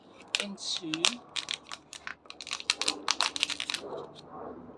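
A cut plastic bottle top is pushed funnel-end first back into the bottle, making a run of close, crisp plastic clicks, taps and crinkles with brief pauses, loud and near.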